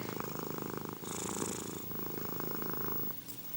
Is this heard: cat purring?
yes